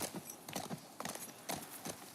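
Horse hooves clip-clop in The Last of Us Part II, a steady walking rhythm of close, distinct hoofbeats over a busy game background.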